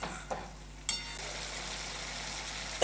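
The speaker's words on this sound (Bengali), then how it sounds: "এবার মশলাটাকে আমি খুব ভালো করে কষিয়ে নেব, যতক্ষণ না পর্যন্ত মশলা থেকে তেল ছেড়ে আসছে" Spice masala with cashew paste frying in a pan, a soft steady sizzle with a faint hum underneath and a few light clicks of a spoon against the pan.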